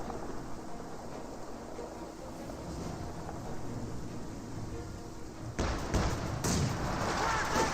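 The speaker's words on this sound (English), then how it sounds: "Pack Howitzers raining on in." A pack howitzer barrage in the Company of Heroes 2 video game: a steady rumble of distant booming shellfire that grows louder and denser near the end.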